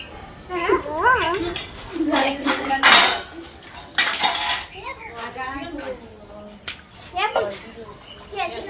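A female dog whimpers and yelps close by in short bursts, mixed with people talking and dishes clattering, during rain.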